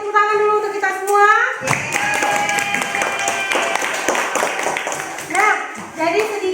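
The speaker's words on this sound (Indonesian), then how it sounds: "Mari kita beri tepuk tangan dulu untuk kita semua." Students in an Indonesian classroom break into a burst of clapping that lasts several seconds, with a voice speaking just before and briefly again as it tapers off.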